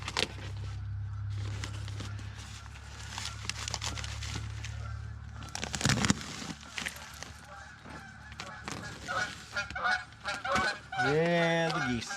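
Geese honk repeatedly, some calls far off under a low engine hum and others nearer, ending with a loud, close burst of honking.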